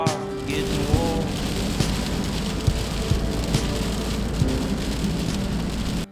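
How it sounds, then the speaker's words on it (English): Heavy rain drums hard on a van at night as wind gusts buffet it, making a dense, loud, continuous roar with occasional sharper knocks and thumps. "the wind and rain have been horrific"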